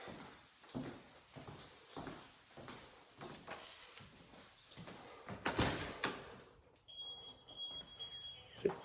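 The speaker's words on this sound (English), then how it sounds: "If you heard that beeping, that comes with the house" A house security alarm gives a sustained high electronic beep near the end, after a run of soft thuds and door-like knocks inside a quiet home, all heard faint and at a distance.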